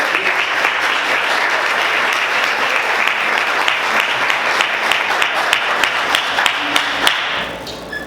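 Thick, continuous applause fills the room as a Portuguese-speaking church congregation claps during a worship service, staying loud and even before tapering off in the final second.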